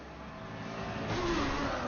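A car engine in the iPad racing game Need for Speed revs up, its tone climbing and growing louder over a short burst, heard alone.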